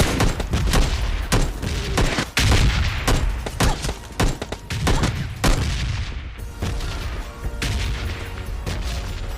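M416 rifle fire and grenade blasts in a shooting video game, rapid bursts of sharp shots and heavy booms crowding together, loud and close, easing into scattered shots near the end.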